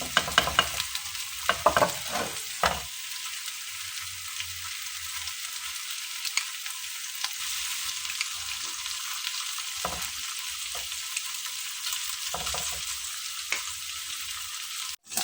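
Chicken malai boti, brushed with oil, sizzling on a hot tawa griddle: a steady, close frying hiss with a few brief stirring or scraping noises near the start, and no talk.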